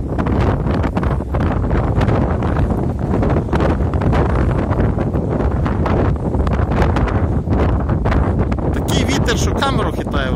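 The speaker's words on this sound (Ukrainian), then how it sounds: "Камеру хитає в руках, не думайте, що то так воно. Сильний вітер." Strong wind buffets the microphone on the hilltop of High Castle park in Lviv, a loud, continuous roar that lasts the whole time with gusty surges.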